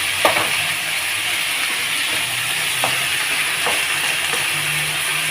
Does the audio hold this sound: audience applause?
no